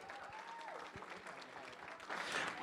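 Guests at a wedding reception applaud after a round of speeches, a steady burst of clapping from a crowd at moderate distance, swelling near the end, with faint voices underneath.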